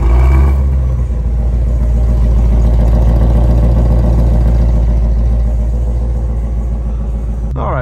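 A warm Ford Shelby GT350 engine runs with its newly fitted exhaust, a loud, steady low rumble close by with a rhythmic burble, holding near idle for several seconds before cutting off at the end.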